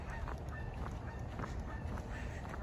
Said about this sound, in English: As the geese are calling